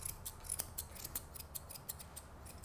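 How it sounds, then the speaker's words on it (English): Small grooming scissors snip the paw hair of a Labradoodle puppy, a quick series of faint, crisp clicks in an irregular rhythm. "comb all the hair forward over the pads, and then trim off"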